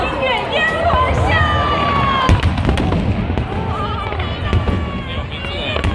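Fireworks at a New Year's Eve musical fireworks show, with sharp bursts and crackles ringing out amid whistling trails, loud and close, layered over crowd murmur, music and nearby voices.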